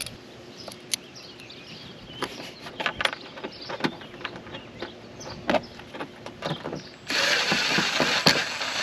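Screws are driven in while an RV rooftop air conditioner is mounted, giving a quiet series of sharp ratcheting clicks and taps at irregular intervals, followed near the end by a louder burst of steady hissing noise.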